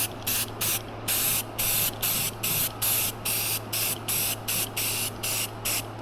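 Rust-Oleum spray paint from an aerosol can: a run of short, sharp hissing bursts, roughly a dozen quick pulses with brief gaps between them, close to the microphone over a faint steady hum.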